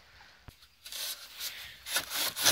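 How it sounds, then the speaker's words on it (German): A hand saw cuts into a block of styrofoam for a homemade longboard ramp, giving soft rasping back-and-forth strokes that begin after a sharp tap and grow louder toward the end. "So, wir sägen jetzt das Styropor."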